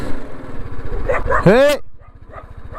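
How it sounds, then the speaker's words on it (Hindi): Dogs running near a border road in Iraq give a short burst of barking and yelping over a steady motorbike engine thrum, with a voice speaking briefly. "यहाँ से कुत्ते दौड़ रहे हैं ना"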